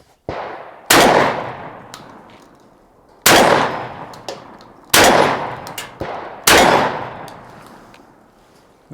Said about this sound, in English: let's see how it shoots these buckshot.